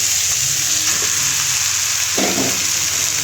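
Boiled banana flower and potato frying in hot oil with spice masala, a loud continuous sizzle with a sharp burst as the vegetables hit the pan.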